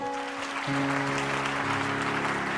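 Church congregation applauding and cheering at a worship service, broad sustained clapping over steady sustained tones, fairly loud throughout.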